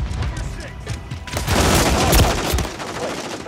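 Rapid bursts of video game gunfire, dense and loud, with booming impacts swelling midway through, while voices talk over the shooting.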